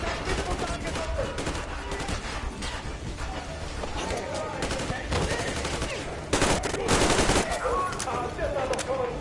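Sustained automatic gunfire in the video game Metro Exodus, dense rapid bursts running throughout and growing louder near the end, with shouted voices mixed in.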